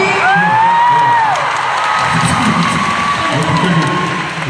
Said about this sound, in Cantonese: 大家掌聲鼓勵我哋嘅公司。